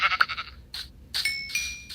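Blocky Minecraft sheep bleat in short wavering bursts, several calls in quick succession with a bright chime between them, close and alone with no talk.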